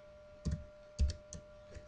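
A few isolated keystrokes on a computer keyboard, four soft separate clicks spaced unevenly over a quiet steady hum.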